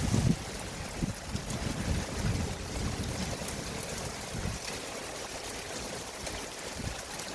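Strong gusting wind buffets the microphone in a heavy spring thunderstorm at Montady, with a loud, broad roar that is strongest at the start and eases into steady rushing noise, with no voices.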